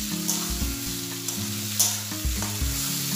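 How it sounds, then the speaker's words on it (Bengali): Crushed garlic, ginger and green chilli masala for egg curry sizzles in a hot pan while being stirred, with a steady frying hiss, a few scraping knocks and no voices. "পুরো মশলাটা একটু ভাজা ভাজা হবে।"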